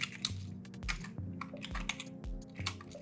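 Typing on a computer keyboard while entering data into an Excel spreadsheet, a quick, close run of light clicking keystrokes with no talking.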